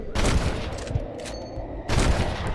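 Gunfire from the Red Dead Redemption video game on PS5: two loud bursts of rapid shots separated by a short lull, sharp and close in the game mix, without talk.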